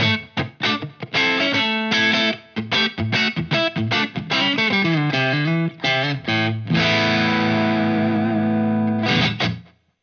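An electric guitar played through a Keeley Mk3 Driver overdrive pedal set for lightly driven clean tones: bright, slightly gritty chords and single-note phrases in a lively rhythm, ending on a long sustained chord that rings out, with no talking.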